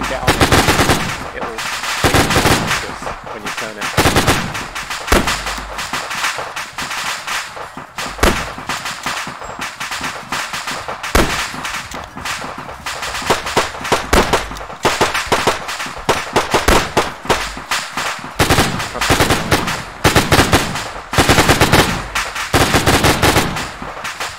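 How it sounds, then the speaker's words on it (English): A mounted machine gun fires in an island airfield mission of a video game, rapid loud bursts and continuous rattling volleys with sharp impacts and clanks filling the whole stretch, with no voices. "slow the rate of fire for now, Mohican."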